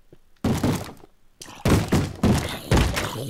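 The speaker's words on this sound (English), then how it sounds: "you see how many times he banged that door?" A Minecraft mob bangs on a door, a run of loud, close, heavy wooden thuds in a rough rhythm, about six blows in three seconds.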